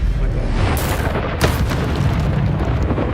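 An Incendio fire spell going off, a sudden loud whooshing burst with a booming, crackling tail that hangs over a busy, rumbling background.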